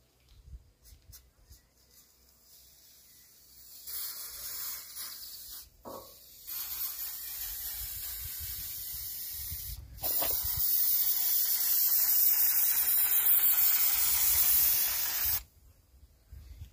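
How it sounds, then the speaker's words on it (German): Spray grease from an aerosol can hisses onto a rubber door seal in several bursts, short at first and then longer, with quiet handling noises between sprays. "Das ist Sprühfett."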